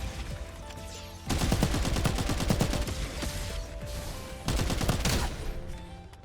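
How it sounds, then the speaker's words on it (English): Dense bursts of gunfire in the battle-royale game Farlight 84, rapid automatic shots stacking into a sustained fusillade with two louder, closer volleys, no talk over it. "I can hear shooting."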